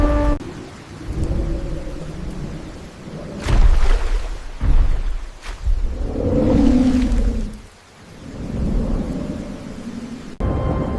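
A thunderstorm over a drought-stricken floodplain, with steady heavy rain and several loud, close thunder cracks and rolling rumbles, the bursts coming and going over roughly eleven seconds with no voices.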